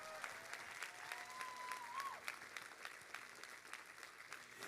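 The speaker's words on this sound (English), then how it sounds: "give another huge round of applause for all of them" A gathered audience gives a faint, distant round of applause for students, with scattered claps over a low background and a brief whistle-like tone.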